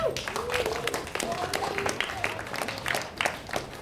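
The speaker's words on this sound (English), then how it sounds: "Big round of applause." A disc golf event crowd gives a round of applause, with a scattered patter of clapping mixed with cheers and voices.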